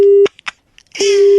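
A mobile phone call drops into a steady electronic disconnect tone, a sustained pitch that breaks off briefly around a few clicks and faint noises, then resumes unbroken and loud.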